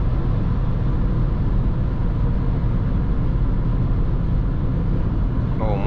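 Steady cabin drone of a VW Polo V 1.6 TDI 90 HP diesel with 7-speed DSG cruising on the highway at 140 km/h around 2,600 rpm, a constant broadband road and engine rumble with no talking.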